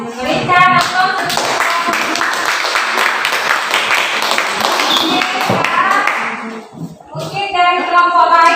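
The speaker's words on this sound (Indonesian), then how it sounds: "Berikan aplaus." Classroom applause from students breaks out after a group presentation, a dense burst of clapping lasting several seconds, with voices talking before and after it.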